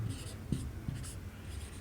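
Chalk or a marker scratches on a board during a maths lesson, making several short scraping strokes close by while a teacher speaks over them.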